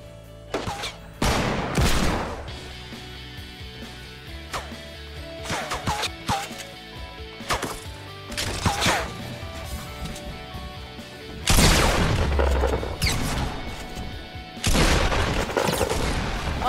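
Gunfire in Fortnite at Tilted Towers comes as repeated sharp bursts and booms, some in quick volleys, with loud blasts near the middle and end over a background of game ambience.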